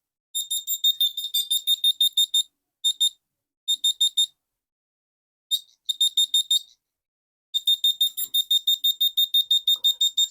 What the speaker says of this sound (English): That switch is working to switch the beeper on and off.